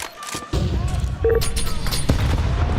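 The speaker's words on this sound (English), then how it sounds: "a lot of nades landing towards Torzi, but he will be able to get away" Grenades explode in a Counter-Strike professional match at ESL Pro League, several heavy thumping bursts close together over game noise, with no words spoken.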